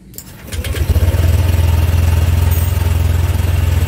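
Honda Click 125 scooter engine cranking and catching after a brief click, then settling into a steady, close, loud idle thrum.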